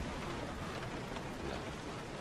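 Heavy rain in Resident Evil 7, a steady dense hiss of downpour filling the short stretch with even, unbroken noise and no voices.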